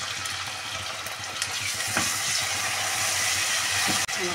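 Dal lentils sizzling and frying in a pan, a steady bright hiss with occasional stirring scrapes and a brief dip near the end.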